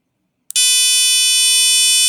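An electronic buzzer driven by a programmed circuit sounds after a short silence, starting abruptly and holding one loud, steady, shrill tone to the end.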